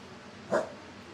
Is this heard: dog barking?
yes